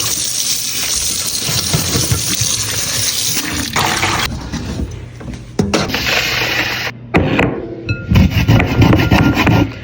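Fresh ginger is grated by hand for a Jamaican sorrel drink, producing close, loud rhythmic scraping strokes with a few pauses and knocks.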